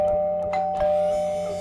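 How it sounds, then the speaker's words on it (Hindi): A doorbell gives a short two-tone chime, a clear single ring over quiet background hum in a house at night. "मैंने डोरबेल बजाया।"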